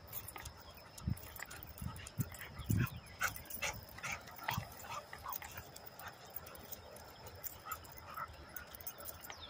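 American Bully XL dogs give scattered barks and soft whimpers at moderate distance, with shuffling, paw steps and faint background noise between the irregular bursts.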